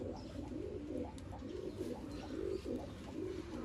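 A teddy pigeon coos close by in a steady series of soft, rolling, throaty calls, repeating with no talking.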